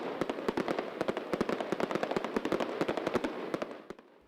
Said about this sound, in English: Yeah, we've got fireworks.